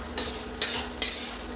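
Crushed dried dates and cashews stirred in a pan as they fry: three distinct scraping strokes about every 0.4 seconds over a steady low sizzle, close and fairly loud with no voices.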